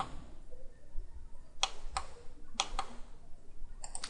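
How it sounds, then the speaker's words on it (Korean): Computer mouse clicks and an Enter key press at a desk during CAD modelling work, heard as a few sharp, close clicks in a quiet room with faint background hum and no talking over them. "클릭, 클릭, 엔터."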